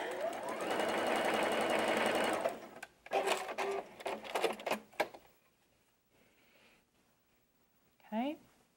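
A sewing machine running a steady long seam through quilt fabric, then a few short back-stitch bursts before stopping, close by, followed by quiet handling sounds and a brief rustle.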